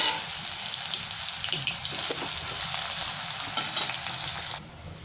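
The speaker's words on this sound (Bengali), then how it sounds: "এটা দিয়ে দিলাম। পেঁয়াজগুলো লাল লাল করে ভালো করে ভেজে নেব।" Sliced onions fry in a pan of hot oil, giving a steady, close sizzle with light stirring scrapes throughout, then the sound drops off abruptly near the end.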